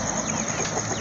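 A hen shut in for the night at a home coop clucks softly and continuously over a steady, dense background hum, with no talking.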